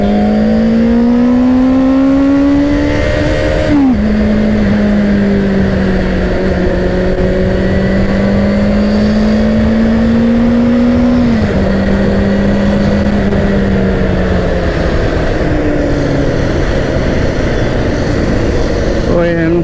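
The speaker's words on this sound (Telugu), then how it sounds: "ట్రాఫిక్ జామ్ హెవీగా ఉంది." Heavy midday traffic jam with a Benelli 600i motorcycle engine close by, a loud steady drone that rises and drops in pitch through gear changes over constant road noise.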